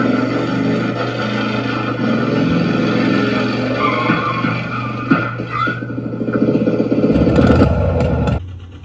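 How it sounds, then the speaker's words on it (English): A motorcycle engine starting and running: a steady mechanical rumble with clattering and scraping over it, ending in a brief louder surge before cutting off suddenly, with no talk. "First I'll start the motorcycle."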